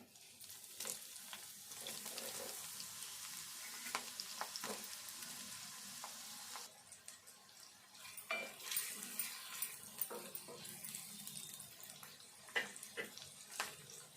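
Cumin and mustard seeds fry in oil with chopped onion for cabbage curry, a continuous close sizzling hiss with scattered spattering pops and stirring scrapes that grows busier partway through, with no talk.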